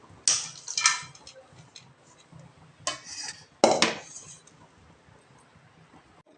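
Sweet pongal being stirred in a pot over a low flame, with a few sharp scraping clinks of a ladle against the metal in separate bursts and quiet gaps between them.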